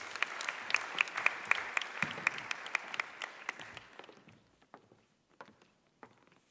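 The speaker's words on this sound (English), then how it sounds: "Round of applause." A plenary session audience gives a round of applause, with dense clapping at first that thins out over several seconds into a few scattered, isolated claps near the end.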